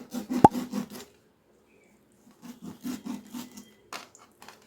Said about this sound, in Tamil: இந்த ஃபிஷ்ஷை நல்லா ஆழமாக கட் பண்ணிக்கலாம்.